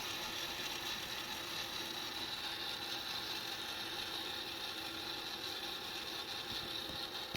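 A JVC BR-S611U S-VHS professional VCR shuttles its tape transport, giving a steady, continuous mechanical whir and ratcheting gear hum at close range with no talking.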